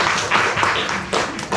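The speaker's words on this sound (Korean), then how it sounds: "김정숙 씨 박수 한번 치십시오." A church congregation gives a brief smattering of applause during a sermon, a few soft bursts of clapping heard close and without clear speech.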